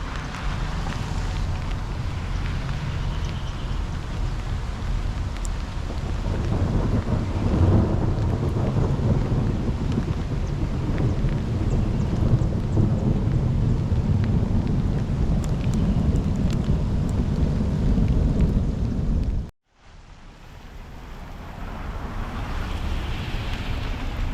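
Steady heavy rain with thunder rumbling, loud and continuous throughout in Montgomery, broken by a brief near-silent cut before the downpour resumes.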